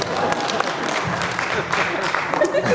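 A comedy show audience claps in a sustained burst of applause, with crowd noise and voices mixed in beneath the clapping.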